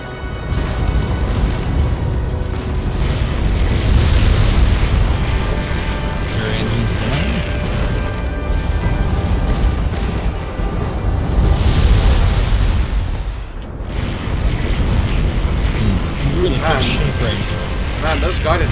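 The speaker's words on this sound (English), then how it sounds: "those guided missiles destroy" Guided missiles detonate one after another in the airship combat game Guns of Icarus, a run of loud booming blasts and crashes spread across the clip while players talk over the action.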